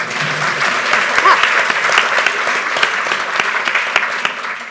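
Audience applause at a literary event, a steady wash of many hands clapping together, full and close, holding at an even level from start to finish with no voices over it.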